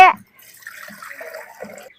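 Water is poured over chopped banana stems in a village kitchen, starting with a brief close splash and then a soft, quieter trickle that fades out.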